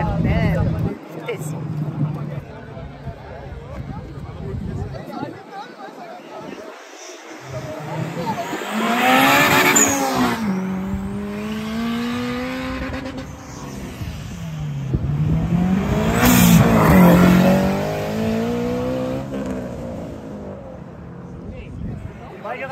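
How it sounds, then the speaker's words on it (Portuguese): A V10 car revs hard as it leaves an event's car exit, rising and falling in two loud surging sweeps amid crowd chatter and nearby voices. "que música maravilhosa faz o carro do Amil?"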